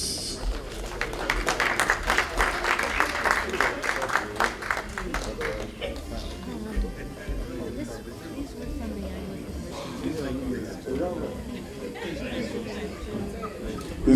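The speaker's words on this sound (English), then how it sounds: "Please give them a big round of applause." A crowd at an EGHOSA alumni chapter gathering for New Jersey, New York and Pennsylvania claps in a dense burst for several seconds, then fades into murmuring chatter and people talking.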